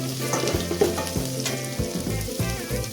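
Rice and ginger roast in a hot pan, giving a steady close sizzle broken by scraping stirs, with a faint tonal hum running underneath.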